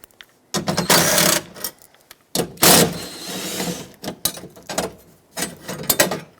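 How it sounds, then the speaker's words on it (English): A ratchet with a 10mm socket backs out bracket bolts on a 2007-2014 Chevy Silverado 2500HD rear door, giving close bursts of quick clicking separated by short pauses. "take your 10mm socket,"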